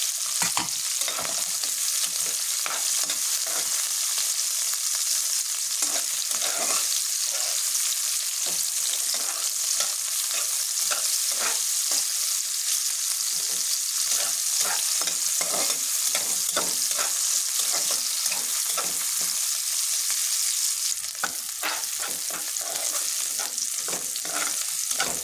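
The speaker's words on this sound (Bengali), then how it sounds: "পেঁয়াজটা ভালোভাবে ভেজে নিতে হবে।" Onion frying with bay leaves in a pan, a constant dense sizzle with repeated stirring scrapes on top, close and even in level, with no talking.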